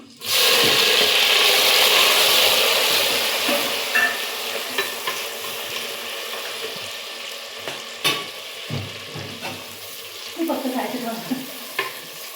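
Tomatoes frying with onions in a pan for dum biryani, a loud sizzle at first that settles into a steady crackle, with intermittent scraping and stirring clicks from a spoon.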